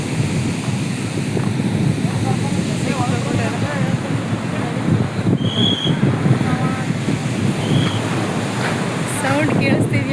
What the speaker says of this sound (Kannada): ಅಲೆ ಸೌಂಡು ಒಂಥರ ಖುಷಿಯಾಗಿರ್ತದೆ